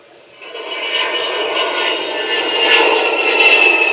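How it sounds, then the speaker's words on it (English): Avro Vulcan XH558 bomber's jet engines roar in a steady broadband rumble that rises slightly toward the end, continuous and fairly loud, with no talk over it. "They came to see the Vulcan's fine lines and hear its unique howling noise."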